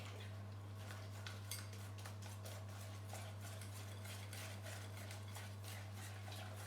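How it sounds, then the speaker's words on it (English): Pancake batter with milk whisked in a bowl, a faint, steady rhythmic tapping and clinking of the whisk against the bowl beneath a low, constant electrical hum. "So add a bit more and whisk again."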